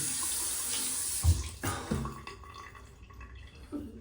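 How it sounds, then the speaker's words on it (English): Tap water runs over a finger being washed with soap after cleaning with C22 adhesive remover, with a few brief splashing bursts against a steady low wash of flow. "I'm gonna clean my finger with C22 and then soap and water."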